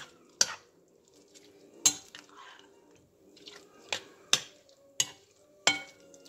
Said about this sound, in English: So we'll stir this in.